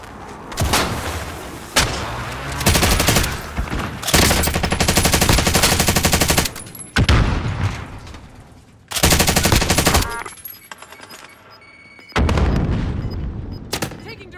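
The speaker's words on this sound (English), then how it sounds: "Taking direct fire." Gunfire in the video game Call of Duty: Modern Warfare, loud repeated bursts of automatic fire with booming shots, separated by brief quieter pauses, close and dominant throughout.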